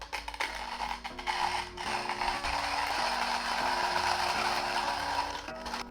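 A Comandante C40 hand coffee grinder is cranked steadily, its burrs crunching beans with a regular ratcheting, clicking rhythm up close, fairly quiet and alone.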